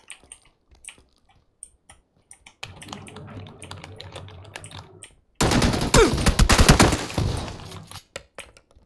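Keyboard taps and game sounds, then a loud burst of rapid video-game gunfire that lasts about two seconds, followed by more scattered key clicks.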